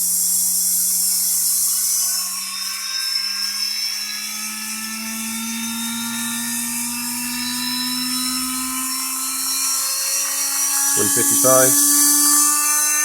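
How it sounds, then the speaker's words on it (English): Universal motor running on DC with speed control, a steady tonal whine with rising and falling pitch as speed changes, with someone talking over it and brief clicks near the end. "Really good control over the RPM of this motor so far."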